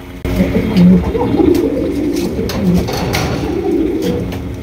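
A pair of show king pigeons coo loudly and repeatedly at close range, deep rolling calls layered over each other with rustling and background noise throughout.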